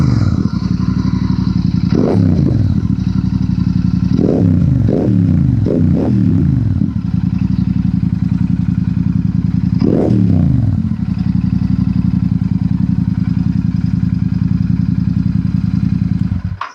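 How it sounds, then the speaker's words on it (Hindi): Royal Enfield Super Meteor 650 fitted with a stainless steel Hurricane exhaust, idling with a steady deep thump and several sharp throttle blips and revs, loud and close, with no talking. "सो चलिए सुनते हैं सैंस का हरिकेन एग्जॉस्ट।"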